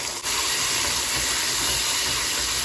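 Juice poured into a hot pan and sizzling, a loud broadband hiss that bursts in at once and holds steady and close for the rest of the moment, with no voices.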